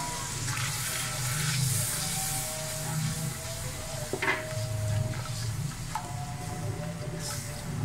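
Onion masala with yogurt, chillies, coriander, turmeric and kalonji frying in a pan for beef paya curry, a loud continuous sizzle with occasional scrapes of stirring.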